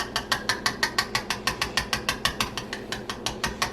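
A whisk scrapes rhythmically through a very thick brownie mix, about twenty quick, even clicking strokes in a row, close and fairly loud with no talking.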